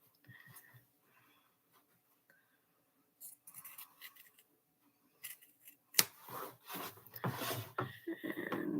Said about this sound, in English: And trim these at an angle.